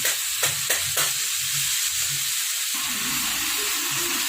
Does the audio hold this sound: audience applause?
no